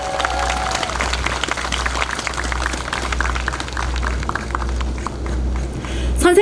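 An audience at a Jeonnam teachers' rally, held in memory of a Seoi Elementary teacher and for teachers' rights, claps for two teachers who performed, a steady crackle of applause over a low hum.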